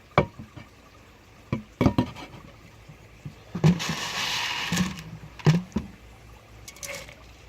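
Pond water poured into a container, heard as a few short splashes and drips followed by a steadier gurgling pour, with scattered thumps and knocks, close and fairly quiet.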